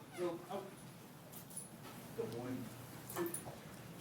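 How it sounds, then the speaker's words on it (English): A young German Shepherd–Belgian Malinois mix police dog gives several short, high whimpers and yips, faint against room noise and a low background hum. "He's a German Shepherd Belgian Malinois mix."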